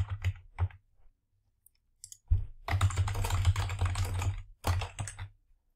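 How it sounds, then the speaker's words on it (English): Fingers type on a computer keyboard in irregular bursts of rapid key clicks, with short pauses between flurries and a longer dense run in the middle, close and clear with no talking. "Type your message."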